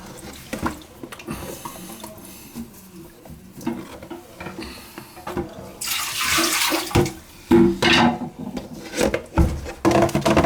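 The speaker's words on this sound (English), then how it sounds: "I'm gonna get the water out of it." Water being scooped and sloshed out of a toilet bowl during a repair, with irregular splashing, dripping and rubbing sounds that grow louder and busier toward the end, close by and without talk.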